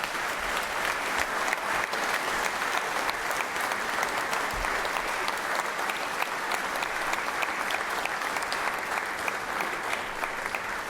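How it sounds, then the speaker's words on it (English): Sustained applause fills the Georgia Senate chamber at the end-of-session sine die, a dense, even roar of many hands clapping steadily and fairly loud throughout with no pauses. "y'all just please give them all a round of applause"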